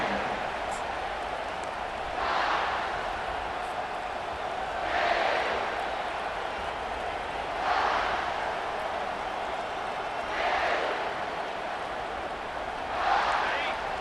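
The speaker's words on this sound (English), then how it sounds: "This crowd bringing an ear-splitting welcome to their visitors." Steady broad crowd roar from a college football stadium in a video game, swelling in rhythmic surges every few seconds over a constant wash of noise, with no talk over it.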